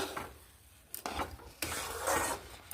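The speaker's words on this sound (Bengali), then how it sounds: "সেই তালটা আমি কড়াতে দিয়ে এই যে জাল দিয়ে নিচ্ছি" Palm pulp cooking in a wok, stirred with soft scraping and rubbing strokes over a faint sizzle, a few louder scrapes near and fairly quiet, with no voices.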